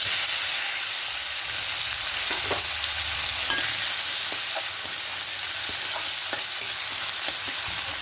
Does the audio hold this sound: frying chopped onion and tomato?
yes